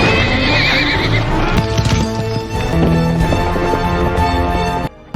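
A horse in the film Attila neighs loudly and gallops, a shrill whinny followed by rapid clip-clop hoofbeats and scuffling, close and prominent.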